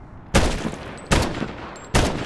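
Three loud, evenly spaced gunshots aimed at a mortar team in the video game Medal of Honor, each a sharp blast with a rough, noisy tail that rings on until the next.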